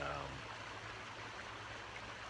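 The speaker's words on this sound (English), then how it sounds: "So this is the Valley River behind me" The Valley River runs behind a camp resort in winter, a steady broadband rush of flowing water, close and continuous with no pauses.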